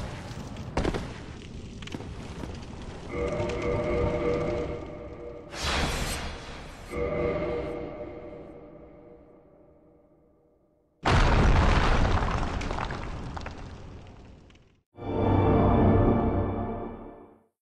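Several loud, booming crashes ring out as objects break in the Dark Souls video game. Each impact swells and then fades into a long rumbling tail, and the bursts are spaced apart with no talking.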